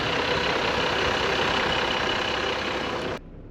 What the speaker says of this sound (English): I like the way that a diesel sounds.